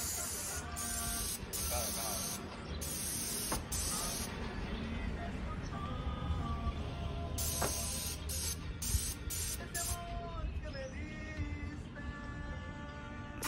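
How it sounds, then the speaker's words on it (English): A paint sprayer spraying an exterior wall gives a steady hissing spray that runs continuously, broken by short mechanical bursts and clicks, with voices talking underneath. "We're spraying a little bit up top right now."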